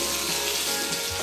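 Brinjal pieces frying in oil in a pan over a low flame, giving a steady, close broadband sizzle with no talk.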